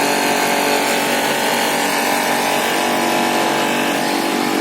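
An FT Tools 2.5HP two-piston high-pressure car washer, rated 160-180 bar with a copper-wound motor, runs with a loud, unbroken roar and whine. It holds steady with no voices.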